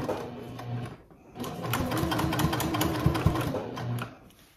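A sewing machine runs in steady bursts as it stitches the seam of a trick-or-treat bag, pausing briefly near the start and again at the end, loud and close with no talk.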